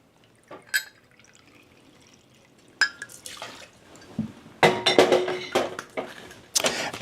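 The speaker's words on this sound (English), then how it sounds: "2 ounces Highclere Castle gin." Highclere Castle gin poured into a cocktail: a few scattered clinks and drips, then a close, splashing trickle of liquid into a glass with glassy knocks toward the end.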